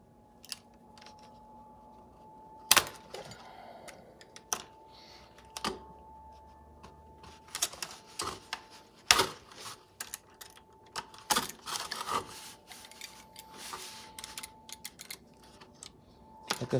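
Plastic drainage pipe being cut, heard as a close, quiet series of sharp irregular snips and clicks with a faint steady whine in the background.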